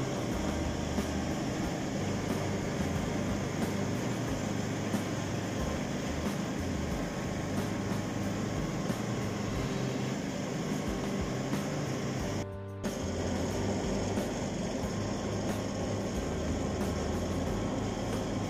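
A road paver's screed vibrator laying a base course produces a loud, steady mechanical hum and drone with a brief dip near the end, close and continuous, with no voices.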